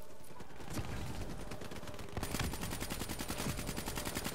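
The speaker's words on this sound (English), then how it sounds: "I'm shooting my man over there" Gunfire in Call of Duty Black Ops 3: scattered shots first, then a loud, fast burst of automatic fire with evenly spaced, rapid cracks.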